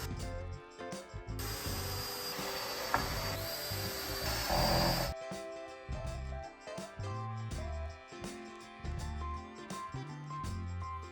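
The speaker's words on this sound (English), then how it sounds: "drilled in some pilot holes, and drove in some screws to secure it all in place" Drilling pilot holes and driving screws into wood framing for a built-in electric fireplace: a sustained whirring burst of a few seconds, then repeated short screw-driving bursts with ratcheting clicks and pauses between, close and fairly loud, no talk.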